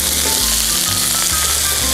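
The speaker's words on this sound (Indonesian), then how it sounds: "Kita tumis sampai wangi, sampai hampir golden brown." Galangal and spice paste sautéing in hot oil gives a steady, dense sizzle throughout, with a few low stirring scrapes and no talking.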